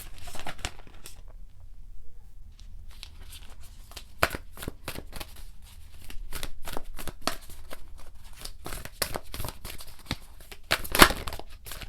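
Starseed Oracle cards are shuffled close up in a quiet room, a long run of crisp riffling flicks and soft patters with brief pauses, loudest near the end, with no talking.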